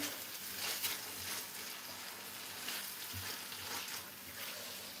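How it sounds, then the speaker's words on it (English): Tomatoes and onions fry for a stew, giving a steady, fairly quiet sizzle with scattered crackles and pops and occasional stirring, and no voices. "So I'm actually frying the the tomatoes and the onions that I want to use for my stew."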